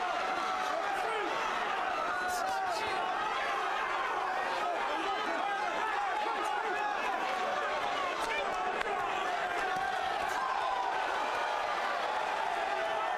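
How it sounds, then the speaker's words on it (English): A boxing arena crowd on its feet during the Chris Chatman vs Thomas Falowo fight, a dense, continuous roar of cheering and chatter filling the hall at steady volume throughout. "Crowd on its feet here. They're loving every minute of it."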